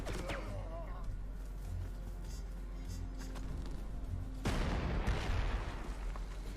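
Explosions from bombing runs in the wartime strategy game Panzer Corps 2, set in North Africa, come as a rolling rumble with a sharper, louder burst near the end, heard over a steady game-score bed.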